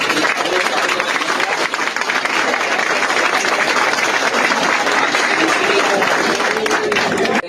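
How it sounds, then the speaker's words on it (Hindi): Sustained crowd applause greets the cast of the first Jaunsari-language film at a promotional event, a dense, steady clapping wash that holds loud and unbroken throughout, with some voices mixed in. "जोरदार स्वागत करें एक बार फिर से तालियों से।"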